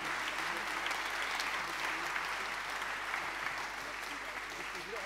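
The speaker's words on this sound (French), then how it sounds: "n'hésitez pas à les applaudir à nouveau, fois, parce qu'ils le méritent vraiment" An audience at a French civic-award ceremony for corporate diversity and citizenship claps in a sustained, even burst of applause that fills the room without break.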